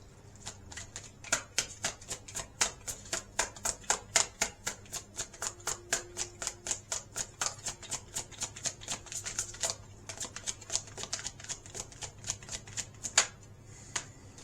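A tarot deck shuffled steadily for a reading, with fast, even, crisp card flicks in a continuous rhythm for the whole stretch, close and fairly quiet, with no voices.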